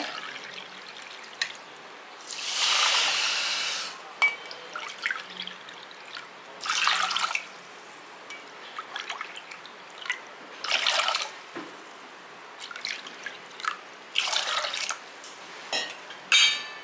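Water is poured from a cup into a pressure cooker while making instant pongal mix, several separate splashing pours of a second or two each with quiet gaps between, close and moderately loud.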